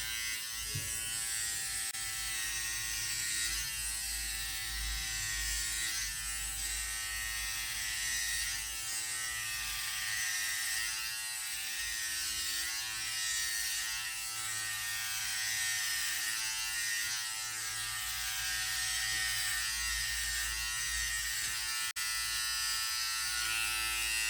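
Philips Multigroom Series 3000 MG3720 trimmer with a 1mm comb running over leg hair, a constant close high-pitched electric buzz with a steady motor hum beneath, unbroken for the whole stretch.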